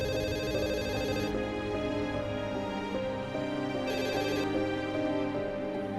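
A telephone rings indoors with a repeating electronic ringtone that plays steadily for several seconds, fairly loud and alone, with no talk over it.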